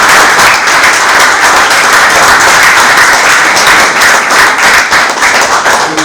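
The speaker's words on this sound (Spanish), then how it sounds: "le quiero pedir aprovechar este momento para brindarle un aplauso de agradecimiento" Loud, sustained audience applause of thanks at a conference on military jurisdiction, a thick continuous roar of many hands clapping close by, with no speech.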